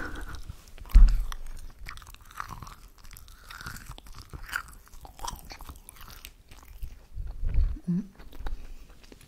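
Crunching, chewing sounds up close, with crisp bites and softer mouth noises spread irregularly over several seconds.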